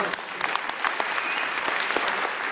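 A room of listeners claps after a startup pitch, with brisk, dense applause and distinct individual hand claps standing out at close range, steady for the whole short stretch.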